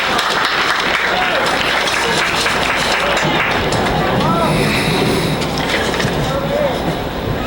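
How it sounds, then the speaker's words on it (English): At a high school senior night, Greensburg Salem at Highlands, a loud crowd applauds continuously, a dense wash of clapping mixed with crowd noise and voices. "Let's have a nice round of applause for Tyrus Kerr and his escort"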